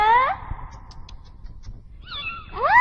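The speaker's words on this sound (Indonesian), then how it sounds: "Kucing manis. Tunggu dulu, kucing manis." A cat meows loudly twice, one cry at the start and a rising, drawn-out meow near the end, with quiet shuffling between.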